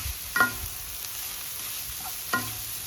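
Banana flower being stirred and mixed in a frying pan at home, with two brief scraping clacks of the spoon against the pan over a faint sizzle and otherwise quiet background.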